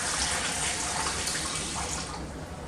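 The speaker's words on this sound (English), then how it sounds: "I'm going to add 4 cups of water to the canner" Steady rushing water, about four cups, pours continuously into a metal pressure canner, a full hissing splash that holds even and slightly softens toward the end.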